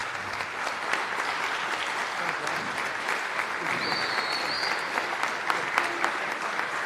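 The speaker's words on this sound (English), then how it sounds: "So I would like you to stand up and give both of the guys a big applause, please." Steady, sustained applause fills a press-conference room at the COLLISION 5 event, dense and continuous clapping from an audience with no pauses.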